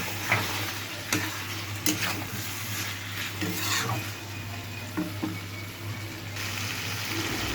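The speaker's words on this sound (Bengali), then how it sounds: "খুলে ঢাকনা খুলে মাংসটা নেড়ে নিতে হবে।" Meat for a Bengali country-style curry sizzles in a pot while a spoon stirs and scrapes through it in a few sharp strokes over a steady, close frying hiss, with no one speaking.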